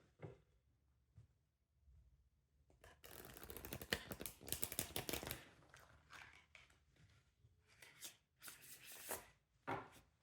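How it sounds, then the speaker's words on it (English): Tarot cards being shuffled by hand, soft riffling and flicking bursts that come in quick clusters, close and quiet, with no talking. "I'm going to shuffle the cards like this in order to refresh their energy."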